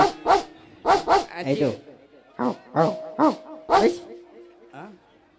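A person imitates a dog with a string of short, loud barks and yips in uneven bursts, separated by brief pauses.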